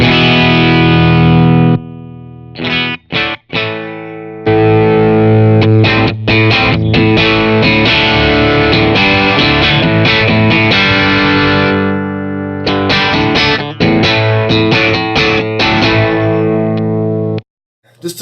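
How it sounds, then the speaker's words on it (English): Electric guitar played through an Xotic SP compressor pedal, loud and sustained with distorted, chorused chords and riffs, held notes ringing between short gaps and picked bursts. "I've really never heard a compressor do what it's supposed to do more than this one does"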